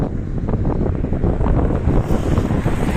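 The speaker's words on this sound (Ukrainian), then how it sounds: "починає трохи більший вітер і дощ іде невеличкий такий щось моросить" Strong wind roars steadily and buffets the microphone, with a constant low rumble throughout, light drizzle, in a small town in Stellarton, Canada, and no voices.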